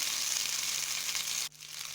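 Cubed, unpeeled potatoes sizzle steadily in hot oil in a pan for Madurai-style mutton curry, a close, continuous crackle that drops off sharply near the end and then resumes more quietly.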